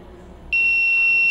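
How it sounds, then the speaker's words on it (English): An electronic buzzer on an ARM7 LPC1768 Cortex-M3 evaluation board starts up after a short quiet moment and sounds one steady, continuous high-pitched tone, close and loud. "the buzzer is going to be buzzing continuously"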